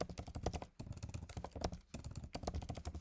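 Rapid, steady typing on a computer keyboard, dense irregular key clicks with brief pauses, close and fairly quiet, no talking.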